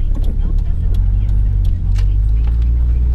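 Car driving and turning left, a loud steady low engine drone close by with faint road noise, while a voice talks over it.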